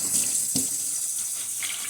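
Tap water runs steadily into a kitchen sink while something is washed by hand, a continuous hiss with a small splash partway through.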